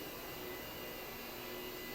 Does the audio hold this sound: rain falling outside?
no